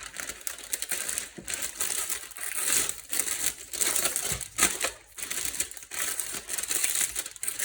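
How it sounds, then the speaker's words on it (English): Cellophane wrap crinkles and crackles steadily around a flower made from an empty toilet roll, with close, dense rustling bursts and brief pauses, no talking. "Simply pick it up, pop it into your cellophane."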